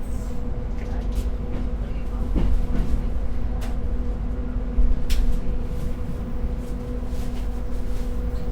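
The Bima passenger train rumbles near Jatinegara station with a steady low hum of rolling cars, a faint sustained tone and occasional clanks and rattles, heard from close by without clear speech.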